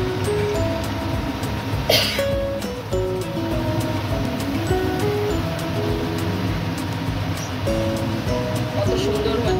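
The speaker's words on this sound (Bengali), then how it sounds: "আমি এবার লুচিগুলো ভেজে নেব।" Luchi, puffed flatbread, deep-frying in hot oil makes a steady, continuous sizzle that runs under background music.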